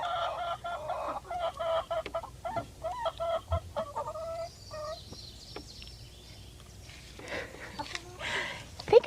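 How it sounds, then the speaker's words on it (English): Hens, three of them sitting on eggs, clucking in short bursts from fairly close, with quieter rustling between calls and a person speaking at moments. "we've got 3 hens on the eggs right now"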